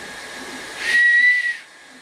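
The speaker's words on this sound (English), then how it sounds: "See if the whistle works" A small plastic whistle, freshly 3D printed on a Kingroon printer, is blown once: a single sharp, steady high tone lasting under a second, loud and close over a faint airy hiss.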